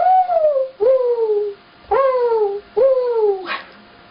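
A girl imitates a mourning dove with her voice, giving four clear, loud falling hoots in a slow, even rhythm with short pauses between them, heard close and alone.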